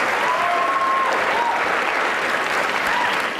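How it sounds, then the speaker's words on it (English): A lecture audience applauding a volunteer at a science lecture, a full, sustained burst of crowd clapping, with a brief whistle-like tone and faint voices underneath. "Let's have a round of applause."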